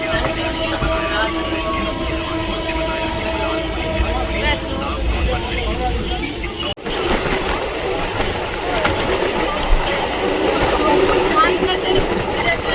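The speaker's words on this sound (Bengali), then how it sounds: "ট্রেনটা ছেড়ে দিয়েছি হাওড়ার উদ্দেশ্যে" Passenger train pulling out of Tarakeswar bound for Howrah, a steady loud rumble of rolling carriages with faint rail clatter throughout, swelling slightly after a brief dip midway, with voices talking over it.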